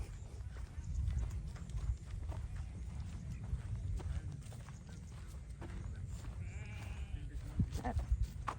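Sheep on a sheep farm at Huai Tueng Thao near Mae Rim, with scattered bleats and shuffling hoof sounds amid a busy outdoor crowd murmur, moderately distant.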